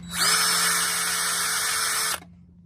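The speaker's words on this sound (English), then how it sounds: "drill a couple holes through here and then push this through" A power drill whirs steadily at high speed for about two seconds, close and loud, then cuts off abruptly, leaving a low hum.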